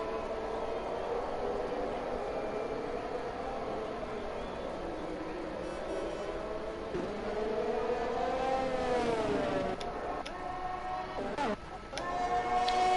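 Race car engine circling the Jeddah street circuit in a sim racing series, a sustained whining drone with harmonic sweeps as revs rise and fall, sharp downshift blips near the end, moderately distant.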